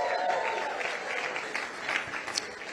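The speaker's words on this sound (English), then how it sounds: "Another applause for that, right?" Audience applause fills a hall at a FIFA World Cup halftime show announcement, greeting news of an education funding pledge; steady, dense clapping continues throughout with no speech over it.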